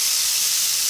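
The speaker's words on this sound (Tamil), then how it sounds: "நம்ம திருவி வச்சுருக்கிற வாழைக்காய் போட்டுக்கலாம்." Grated raw plantain hits hot masala in a pan, making a bright, steady sizzle and hiss close by, with a soft stirring knock right at the end.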